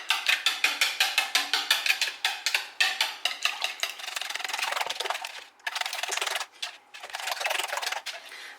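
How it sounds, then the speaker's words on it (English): Eggs whisked briskly in a bowl, a steady run of rapid light clinks and scrapes that gives way to a smoother continuous swirl, close and fairly loud with no talking. "We are gonna whisk this up."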